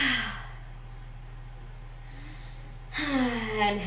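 A slow, audible exhale during a strength-focused yoga session as the body folds forward, a soft close breath sighing out, then a second breathy release a few seconds later.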